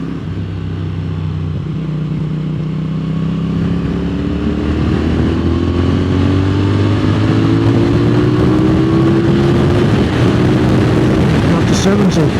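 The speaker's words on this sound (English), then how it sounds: "Nice little burble from the exhaust." CFMOTO 450SR 2023 motorcycle exhaust burbling close and steady while riding, a low rumbling engine note that slowly rises in pitch through the run, with wind noise and no speech.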